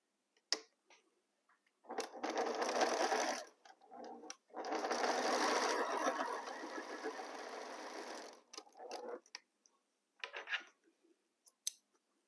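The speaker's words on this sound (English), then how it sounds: "I line my pieces and sew a 1/4 inch." A sewing machine stitches quilt pieces with a quarter-inch seam for a Jacob's Ladder quilt, running in two steady, buzzing bursts of a few seconds each, close and clear, with brief handling clicks around them.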